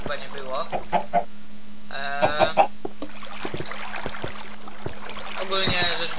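Chickens clucking on a chicken farm in Minecraft, short bursts of game clucks repeating over a steady hum with other in-game clicks and noises, moderately loud and close.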